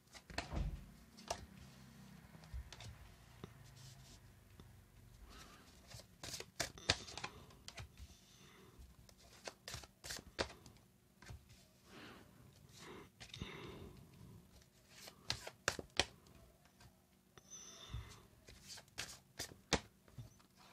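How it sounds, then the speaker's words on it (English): Tarot cards being shuffled by hand during a reading, a run of soft riffling and snapping bursts that come and go close up over a quiet room, with no talking. "Another shuffle they request."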